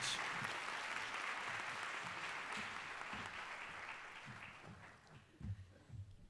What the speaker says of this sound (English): Please give Ms. Webster a round of applause as she comes to the stage.